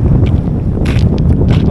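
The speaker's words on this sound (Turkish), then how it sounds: "Rüzgar fena çoğaldı." Strong wind blowing across an open hillside near a village in the Tendürek mountains, a constant rough rumble buffeting the microphone, with gusts swelling at moments.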